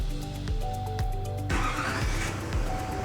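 A 2007–2014 Chevrolet Silverado 2500 starts by remote start: a short rhythmic cranking gives way to a broad rumbling engine catching and running close by, with no talk.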